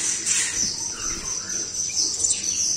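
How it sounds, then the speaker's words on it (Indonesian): House sparrows chirp and twitter continuously in a busy, high-pitched chorus, fairly close, alongside a steady insect-like trill. "Tuh ada 3 ekor burung gereja."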